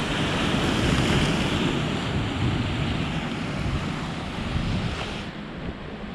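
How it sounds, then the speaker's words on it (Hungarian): Sea waves wash steadily against a Greek fishing harbour at Sarti, a broad continuous roar mixed with gusting wind buffeting the microphone, close and fairly loud with no voices. "hallgatni a tenger morajlását"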